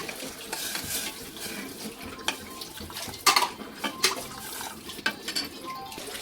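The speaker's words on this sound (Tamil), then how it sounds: "தேவையான அளவுக்கு வந்து தண்ணி ஊற்றியாச்சு" Water pours into a cooking pot on a home kitchen stove while a Tamil cook prepares kodo millet pongal, with soft trickling and a few sharp metallic clinks of pot and utensils, fairly quiet throughout.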